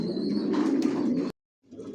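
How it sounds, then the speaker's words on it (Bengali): Adult racing pigeons of a Johnson long-distance line coo in a low, throaty murmur close by, followed by a brief silence before the cooing resumes more softly. "ভিউয়ার্স দেখতে পাচ্ছেন এখানে সব অ্যাডাল কবুতর"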